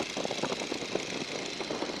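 A 1942 Boeing Stearman biplane engine, throttled back to 1,500 RPM, drones steadily with a faint, even rumble and soft, regular pulsing, heard from inside the open cockpit.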